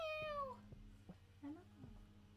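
A cat gives a sharp, descending meow, followed by a few soft, short chirps and muffled thumps in a quiet room.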